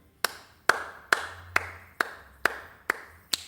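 Eight sharp single hand claps sound alone in an evenly spaced, deliberate rhythm, each crisp and close with a short ring of room echo in a quiet space.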